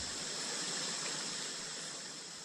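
Stream water rushes steadily as someone wades upstream on a night crab hunt in Vietnam, a continuous broadband hiss that is faint and unbroken, with no voices.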